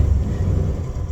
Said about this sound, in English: it's like a bearing noise, basically